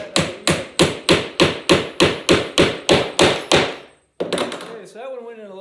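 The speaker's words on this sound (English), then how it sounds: "So that one went in a little easier because I pre-drilled it with the nail itself" Hammer blows drive a nail into wood while building an easel, a dozen steady, evenly spaced strikes close up, then a short pause and faint handling noise.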